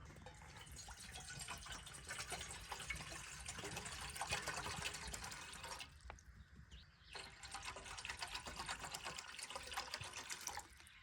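At a camp on the Chesapeake Bay, water is poured into a cooking pot for boiling, making a steady, fairly close splashing gush in two long pours separated by a brief pause.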